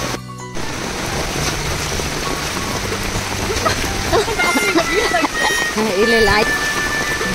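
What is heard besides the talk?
heavy rain with thunder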